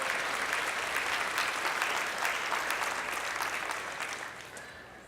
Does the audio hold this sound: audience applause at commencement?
yes